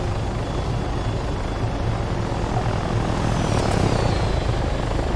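A helicopter in the video game Arma 3 thumps and whines continuously at close range, its rotor and engine noise loud and steady throughout.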